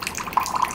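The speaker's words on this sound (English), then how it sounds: "yes, the water is coming" Thin trickle of water from a rechargeable electric pump bottle dispenser running weakly into a glass, a brief, soft, splashy pour with no voices.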